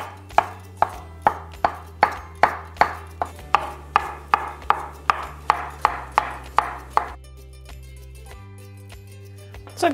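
Mushrooms sliced with a knife on a cutting board, about twenty crisp evenly paced chops close by that stop partway through, leaving quiet background music.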